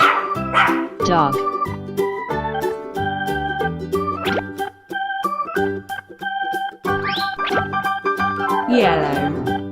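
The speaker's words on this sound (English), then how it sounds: "dog" A dog barks a few times amid busy, bouncy background music with steady rhythmic beats.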